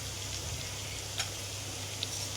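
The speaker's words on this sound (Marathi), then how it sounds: "आता मस्त याला थोडं थोडं लाल लाल कलर येईपर्यंत भाजून घेऊया जरा व्यवस्थित." Spice masala roasting in a pan for a drumstick and potato curry: a steady, soft sizzle with faint crackles, quiet and continuous, with no talking.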